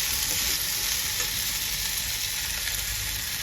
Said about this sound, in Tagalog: Ginisa na natin yung bawang sibuyas tsaka yung chicken lang